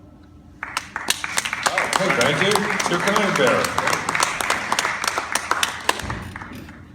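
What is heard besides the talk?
audience applause for the late Angus Scrimm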